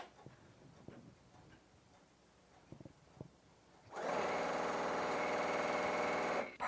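A Bernina 880 sewing machine stitching fabric: a few faint handling clicks, then a loud, steady, rapid mechanical whirr of stitching that runs for about two and a half seconds before stopping abruptly.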